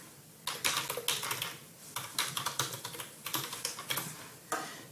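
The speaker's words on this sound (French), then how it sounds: "je pourrais écrire Allô, Alexis." Fingers tapping a computer keyboard while typing a note, quick uneven bursts of crisp clicks with short pauses between them, close and clear, with no talking.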